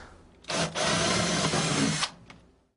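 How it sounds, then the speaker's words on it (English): A power drill whirs into wood for about a second and a half while drilling a pilot hole, a loud, close burst that stops abruptly, followed by a brief faint tap. "we'll go ahead and begin to drill our pilot holes."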